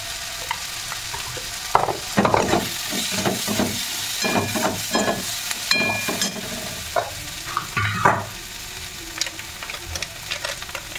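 Atta pasta frying with turmeric and chili powder in a pan, sizzling steadily while a spoon scrapes and stirs in repeated irregular bursts, close by with no talking.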